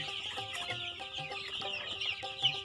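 Tiger breed chicks on a poultry farm cheep and cluck steadily, a dense chorus of many birds close by with no talking.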